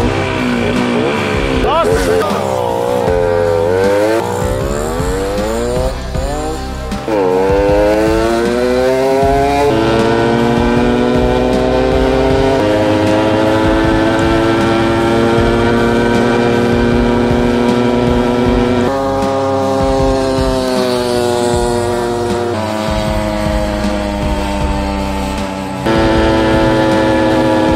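A Sachs moped with a tuned engine climbs a hill, its two-stroke motor buzzing loudly and steadily throughout, pitch rising and falling as it revs and shifts, with a brief spoken word.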